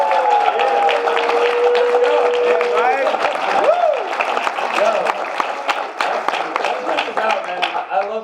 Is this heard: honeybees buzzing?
no